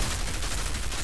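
A rifle fires in the video game Outriders as a rapid, dense stream of shots, steady and loud throughout the short burst with no pauses.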